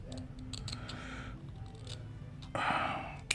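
Scissors snip through a strip of cotton padding, a few soft crisp cuts close by, ending in a louder slicing stretch and a sharp final snap.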